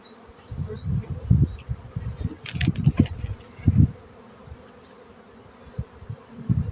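Honeybees buzz around an open beehive, their drones rising and falling in close, irregular bursts as bees fly near, with no talk.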